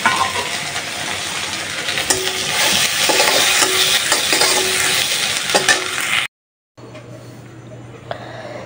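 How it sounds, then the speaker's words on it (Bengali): Garlic tempering sizzles and crackles in hot oil as it is added to cooked dal, a loud, close, steady frying hiss with stirring clinks, then a sudden cut to a quieter hum. "রসুন দিয়ে বাগারটা দিয়ে দিই"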